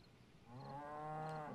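A single long, low cow moo from the survival video game 7 Days to Die, heard alone and fairly clear, rising and holding for about a second before cutting off.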